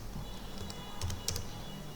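Typing on a computer keyboard, a few soft, close key clicks in short irregular bursts over a quiet room.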